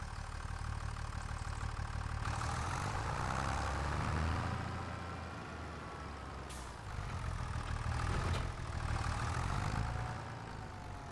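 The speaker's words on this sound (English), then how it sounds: "So we need to jump into this tractor here." Tractor engine idling in Farming Simulator 25, a steady low diesel rumble with a faint whine, constant and moderately close, with a couple of brief hisses partway through and no talking.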